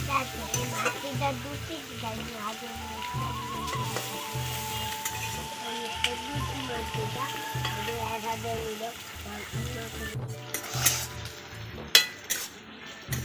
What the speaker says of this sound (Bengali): আমার পেঁয়াজটা হালকা করে ভাজা হয়ে গেছে।